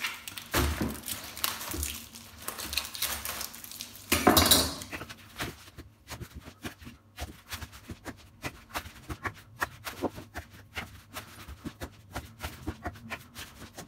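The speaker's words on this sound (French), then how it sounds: "on va commencer par parer nos poireaux" A knife trims leeks on a cutting board, giving a run of close, sharp clicks and scrapes of the blade on the board, with busier cutting and rustling early on and sparser taps later.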